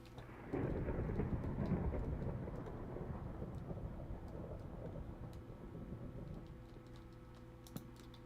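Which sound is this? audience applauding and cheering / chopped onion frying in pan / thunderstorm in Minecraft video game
thunderstorm in Minecraft video game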